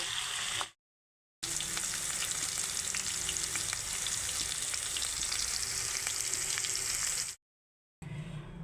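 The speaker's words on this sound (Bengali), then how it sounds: "এখন আমি আলুগুলো লাল লাল করে ভেজে নেবো" Potatoes with salt and turmeric fry in hot oil, giving a constant close crackling sizzle with light stirring, cut by two short stretches of silence.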